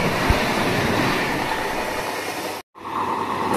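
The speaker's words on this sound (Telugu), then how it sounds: "చూడండి ట్రాక్ సౌండ్స్." A passenger train running from Vijayawada toward Rajahmundry rolls along the track with a loud steady rumble and rattle of wheels on rail, cut by a brief sudden dropout before the noise resumes.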